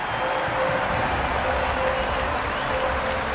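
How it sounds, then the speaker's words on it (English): A crowd cheers and applauds steadily throughout a simulated cricket match between RCB and SRH in Cricket 26, making a dense, loud stadium roar with no break. "The crowd are really getting quite raucous."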